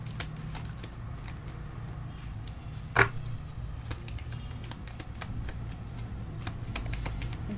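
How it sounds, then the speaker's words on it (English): Tarot cards shuffled by hand, a soft continuous riffling and rustling with small clicks throughout and one sharper snap partway through, close and quiet, with no talking. "Let's do a little bit of shuffling."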